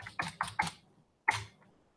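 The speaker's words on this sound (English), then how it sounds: "and type docker starts" A command is typed on a computer keyboard, first as a quick cluster of four close keystrokes, then one more after a pause, quiet and isolated.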